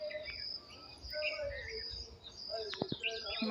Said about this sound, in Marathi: पक्ष्यांचा किलबिलाट आवा आवाज येतोय